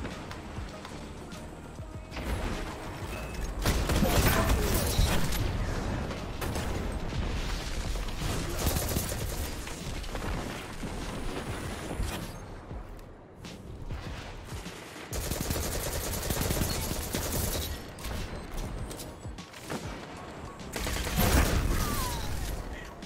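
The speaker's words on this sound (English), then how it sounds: "Now I'm using a shotgun." Shotgun blasts in Destiny 2 gameplay, a rapid run of loud booming shots with clattering effects, pausing briefly and then resuming as dense bursts over steady game noise.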